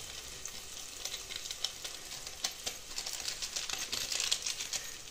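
Spiced masala with Maggi seasoning sautés in a pan for matki rice, crackling and sizzling steadily up close, with light scraping stirs throughout.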